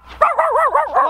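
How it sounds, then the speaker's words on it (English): A young dog gives a single drawn-out, wavering yip that bends up and down in pitch, loud and close. "This is Jasperito's new dog."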